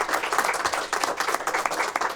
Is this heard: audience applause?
yes